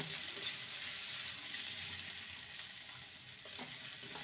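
Grated ginger sautéing in a pan with a pinch of asafoetida gives a steady, soft sizzle, with a few light stirring scrapes near the end. No one speaks.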